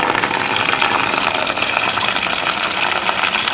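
Coolant gushes and drains steadily through the cooling system of a Triumph Tiger 955i motorcycle during a flush, a loud, continuous watery rush with no pauses.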